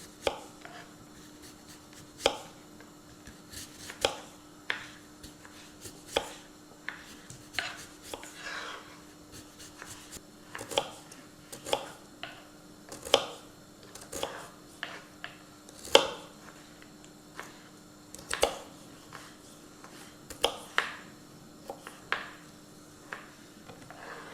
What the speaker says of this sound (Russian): И свеклу нарезаем. Сначала на тоненькие ломтики.